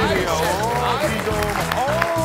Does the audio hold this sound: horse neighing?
no